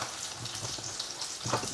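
Paneer frying with chili powder in a pan, a steady close sizzle with faint crackles for a couple of seconds, no voices.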